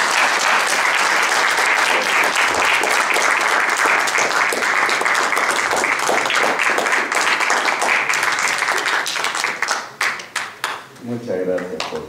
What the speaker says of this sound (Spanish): Recibamos con fuertes aplausos al doctor Alejandro